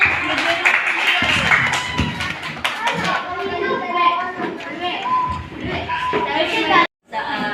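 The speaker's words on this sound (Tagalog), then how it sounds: "Amen. Palakpak." Children clapping their hands together during a Sunday church gathering, a run of sharp, fairly regular claps mixed with voices and a busy room.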